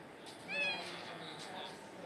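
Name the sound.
cat meowing in a video game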